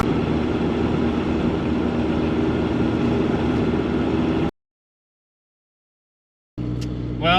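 A truck engine running on vegetable oil while driving drones steadily with a deep, rumbling low end, then cuts out to about two seconds of silence before the drone returns.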